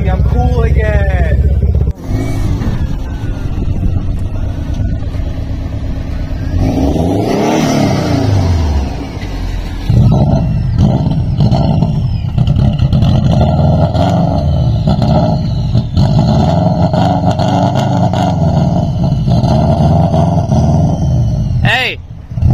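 A Subaru WRX engine, started for the first time in eight months, runs and revs loudly in the foreground, its pitch swelling and falling with each rev, while people talk over it throughout.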